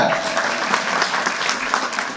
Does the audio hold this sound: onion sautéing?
no